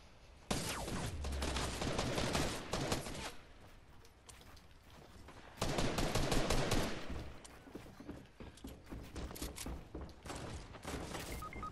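Rapid bursts of gunfire crackle in a Fortnite match, dense and loud, with the barrage surging again midway and continuing in scattered volleys toward the end.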